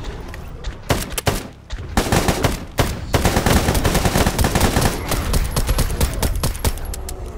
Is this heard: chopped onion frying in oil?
no